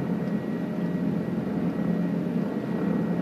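Helicopter in flight inside Microsoft Flight Simulator 2020, a constant droning rotor and engine roar, loud and steady with no pauses.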